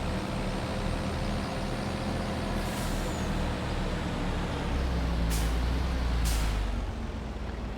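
A Mercedes-Benz truck in Farming Simulator 25 gives a steady, subdued engine drone throughout, broken by a few short air-brake hisses in the latter half, all at moderate distance and fairly quiet.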